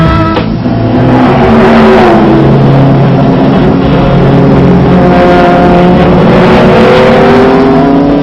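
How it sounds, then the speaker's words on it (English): A 1970 Ford Piranha Group 5 race car with a GT40-sourced engine, loud and close, its engine roaring and revving with rising and falling harmonic tones throughout at a classic car festival raceway. "uilt in 1969 by Bosal Green, this Ford Piranha has an engine and a front suspension taken from a GT40."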